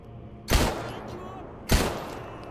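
Two loud, sharp gunshots ring out about a second apart in the video game S.T.A.L.K.E.R. GAMMA, each with a short echoing tail over a quiet background.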